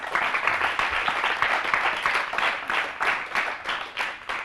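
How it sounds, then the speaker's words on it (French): A crowd applauds steadily, a dense wash of many hands clapping at moderate loudness, continuing throughout with no talking over it. "Donc on peut applaudir encore une fois Ayman."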